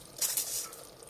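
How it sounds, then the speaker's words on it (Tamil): Soaked and drained rice drops into boiling coriander biryani masala in a pressure cooker, making one brief close wet splash and patter that quickly fades. "இந்த ஸ்டேஜ்லங்க அரிசியை வந்து ஊற வச்சு வடிகட்டி வச்சிருக்கோம் இல்லைங்களா, அரிசியை வந்து நம்ம போட்டுடலாம்."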